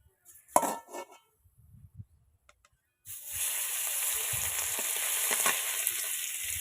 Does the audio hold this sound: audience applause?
no